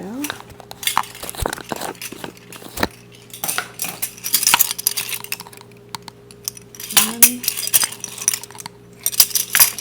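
Metal measuring spoons clink and rattle together in short, scattered bursts at close range, light metallic jingles recurring through the stretch while someone cooks pulled BBQ chicken, with occasional brief voice sounds in between.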